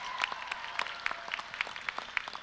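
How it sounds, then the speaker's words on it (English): Applause at the Waterbury Arts Magnet School 2017 graduation for the school faculty, a moderate round of crisp, scattered hand claps from the crowd filling a couple of seconds. "a great round of applause to the Waterbury Arts Magnet School faculty"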